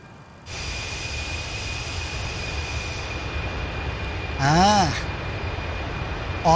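MD-82 airliner jet engines in a flight simulator video game (MaddogX), a steady broadband roar with a thin high whine, briefly overlaid by a short warbling tone near the end.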